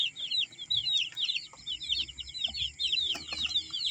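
Six-day-old broiler chicks chirp continuously in their pen, making a dense chorus of high, fast peeping with faint rustling and knocks underneath.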